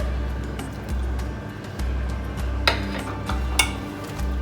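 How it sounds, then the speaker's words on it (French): A spoon stirs chickpeas with potatoes and carrots in a tajine pot, giving repeated scraping and clinking strokes at a steady rhythm, close and clear. "Toujours bien mélanger."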